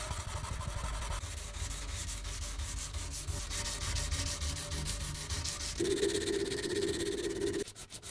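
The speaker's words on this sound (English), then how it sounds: "Hand sanding begins. Working from 120 to 240 grit, the goal is to refine the bevel and improve the blade's geometry." A rusted giant butcher's cleaver blade being hand sanded with 120 to 240 grit sandpaper, a continuous rapid back-and-forth scratching rasp, steady and close throughout, shifting in tone briefly near the end.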